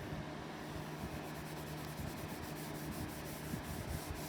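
Continuous close, soft rubbing as Brasso polish is worked over the gunky casing of a 2010 MacBook, a steady scrubbing hiss with no voices.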